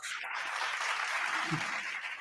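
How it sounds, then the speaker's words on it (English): Round of applause on a podcast, a steady, fairly soft wash of clapping that runs evenly across the moment, with a faint voice murmuring underneath. "Give a round of applause"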